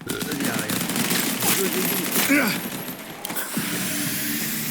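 Rapid-fire shooting from a gun in a multiplayer shooter game, in dense bursts of shots with mechanical clicks, easing off briefly near the middle before a steady stream of sound returns.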